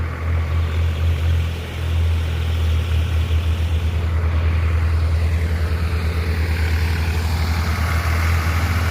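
A tractor engine runs slowly in a rice field during a transplanting event, a steady, loud low-pitched idle-like chug with a regular throbbing pulse, continuous throughout with no talking.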